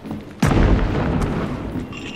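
A single loud gunshot and explosion boom out in Hunt: Showdown as a barrel near a building is blown up, followed by a long rumbling, crackling tail of debris and reverberation.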